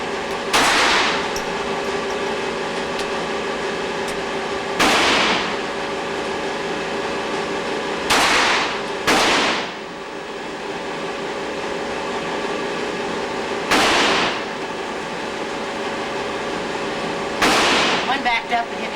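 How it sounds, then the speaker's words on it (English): Gunshots from a gun being fired, heard as six loud sharp blasts at irregular intervals, each with a short ringing tail over steady background noise. "that's pretty good shooting, Tex"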